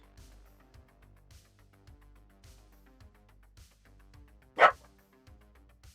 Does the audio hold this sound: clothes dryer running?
no